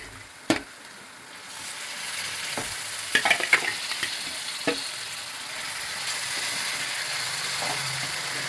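Fish pieces hit a pan of chili-spiced curry masala and fry with a steady, close sizzle. A few sharp clacks of a stirring spoon come early, then scattered scrapes follow as the pieces are turned.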